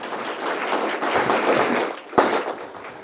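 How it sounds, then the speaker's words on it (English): An audience gives a round of applause at a Hindu Heritage Month celebration, a broad wash of clapping swelling and fading, with a sharp thump near the end. "a wonderful round of applause, please."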